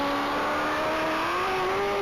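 A 2014 Corvette race car accelerates hard down a mile-long straight, its engine note climbing steadily in pitch as a loud, continuous roar that builds without a break.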